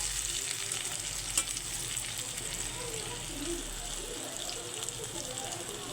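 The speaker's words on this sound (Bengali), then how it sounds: "সুন্দর আলু ভেজে নিয়েছি লাল লাল করে" Potatoes frying in oil for a country chicken curry, a steady soft sizzle with occasional stirring scrapes, fairly quiet throughout.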